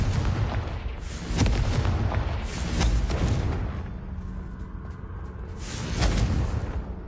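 Confringo explosion spells cast in a fantasy video game produce repeated booming blasts, with three loud bursts rising over a rumbling backdrop and no voices.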